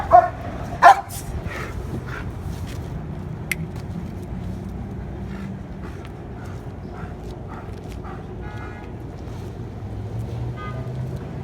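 A leashed, aggressive dog during a training session lets out a couple of sharp, close barks at the start, followed by a low, restless rumble and scuffling that continues throughout.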